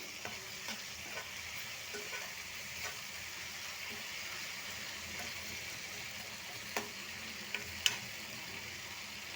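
Prawns and cashews fry on a high flame in a pan and are stirred now and then, giving a steady, soft sizzle with light ticks and scrapes; no one speaks.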